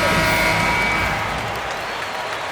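Dense, steady crowd applause in a basketball video game that gradually fades slightly, with faint cheering mixed in.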